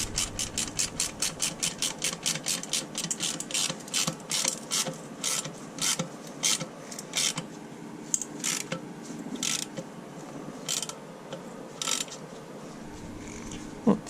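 A ratchet tightens a 10mm bolt from underneath, giving a fast run of even, close clicks that slow into spaced, separate clicks and short bursts of ratcheting.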